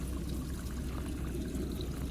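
Water gushes through a hose being flushed out at a narrowboat, a dense, steady pouring rush that stays even and close throughout with no talking.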